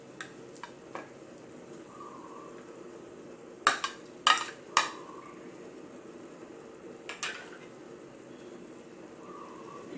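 Minced pork stirred into a pot of clear soup with glass noodles and tofu skin, a faint steady simmer broken by a few sharp clinks of a utensil against the pot midway.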